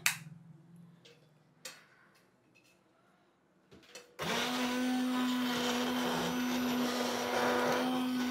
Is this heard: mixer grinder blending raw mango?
yes